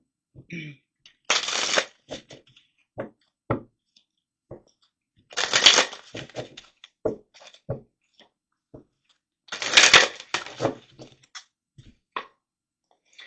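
Tarot cards being shuffled during a reading, three loud riffling bursts separated by scattered sharp taps and card handling clicks, close and clear with no voice.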